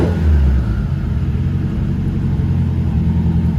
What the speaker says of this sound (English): This thing revs so fast